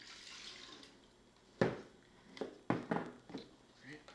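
Orange juice is poured into a small container while mixing an Ecto Cooler drink: a few short splashing bursts over a quiet background.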